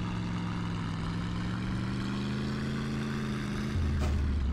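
In the My Summer Car video game, a tractor fitted with a V8 engine roars loudly and steadily, its low droning pitch slowly climbing before dropping into a deeper, heavier tone near the end.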